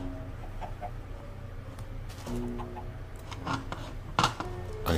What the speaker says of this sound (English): I hear lots of chickens.